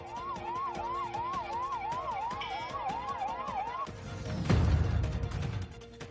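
Ambulance siren wailing in a steady rising-and-falling pattern for several seconds in a street setting, then cutting off into a louder burst of traffic rumble and noise.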